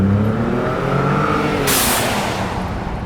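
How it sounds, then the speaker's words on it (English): Ford Raptor engine revving with a burst of turbo blow-off valve venting as a sharp broadband whoosh near the end, loud and close with no talk. "See how that blow-off valve sounds."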